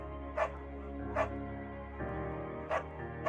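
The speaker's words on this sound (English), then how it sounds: "A beagle named Bucket?" A beagle barks in the Firewatch video game, four short, fairly quiet yaps spaced unevenly over a soft steady background hum.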